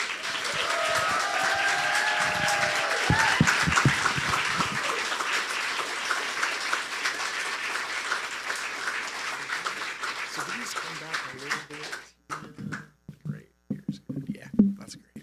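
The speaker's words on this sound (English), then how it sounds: "Please give a rock star applause for James" An audience at a CreativeMornings New York event applauds warmly for several seconds. The thick clapping gradually thins out, leaving scattered claps, murmuring and a few nearby voices as it dies away.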